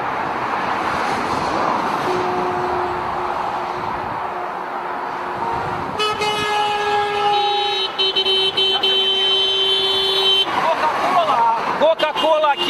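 Car horns honk repeatedly in a street protest against Dodon in Chișinău, several horns sounding in overlapping bursts and sustained blasts over busy traffic and crowd noise, with people talking throughout.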